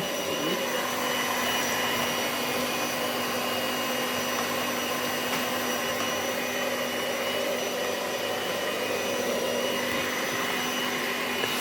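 Electric whisk mixer running continuously while beating cake batter, a loud, steady motor whine with a constant hum held from start to finish, no voices.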